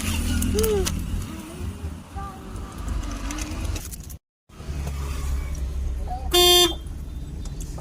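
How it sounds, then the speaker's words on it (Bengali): A vehicle horn with a loose wire being fixed at a roadside stop in Mayapur gives one loud, clear honk near the end, after a stretch of engine rumble, traffic noise and a brief dropout. "এখানে হর্নটা ঠিক করে দিচ্ছে,"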